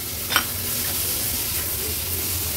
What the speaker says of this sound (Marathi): मसाले आपल्याला कांद्यासोबत छान तेलावर परतून घ्यायचे